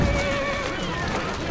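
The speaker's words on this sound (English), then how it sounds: "Who's a good horse? You are." A horse in the video game Assassin's Creed Syndicate gives a loud, close whinny with a wavering pitch, heard alone for about a second and a half.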